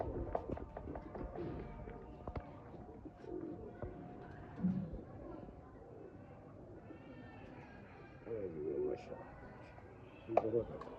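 Breeder pigeons cooing in a loft belonging to a pigeon fancier in Hanjarwal, soft repeated coos rising now and then over steady background noise and faint voices nearby.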